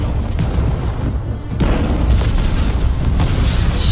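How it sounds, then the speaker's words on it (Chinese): A soul guide bomb set in advance detonates at the north city wall in the animated Soul Land 2: a heavy, deep boom swells into a sustained rumbling roar, with a fresh surge of blast noise midway and crackling bursts near the end. "我事先布置的出发式魂导炸弹被引爆了"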